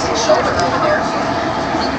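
Inside a TRAX light rail train on the Daybreak line travelling at about 60 miles an hour, with a steady interior rumble and wheel noise that runs throughout.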